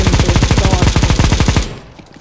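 Rapid automatic gunfire from a gun in Counter-Strike: Global Offensive, a loud close burst of evenly spaced shots lasting about a second and a half before cutting to quiet.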